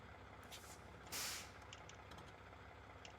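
A truck's handbrake releases with a sharp burst of air hiss in a driving game, a short loud whoosh rising over a quiet idling engine hum, followed by faint clicks.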